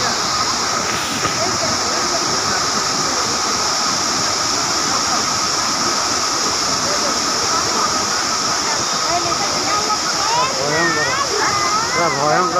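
Water gushes down the Gundicha Ghai waterfall in Keonjhar, a loud, constant roaring rush that dominates throughout, with voices talking over it.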